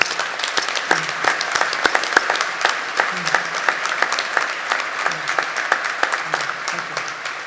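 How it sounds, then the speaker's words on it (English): Audience applause at a New York State Police graduation ceremony, steady dense clapping from a large crowd filling the whole stretch, moderately loud with a few sharper individual claps standing out. "I want everyone here to applaud you"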